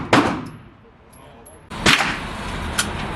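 Two sharp gunshots crack at a gun range, one near the start and another around two seconds later, each followed by a short ringing tail against a quiet background.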